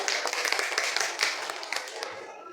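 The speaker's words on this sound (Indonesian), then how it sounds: "beri tepuk tangan untuk kelompok 1" A group claps steadily, a dense patter of hand claps that fades slightly toward the end.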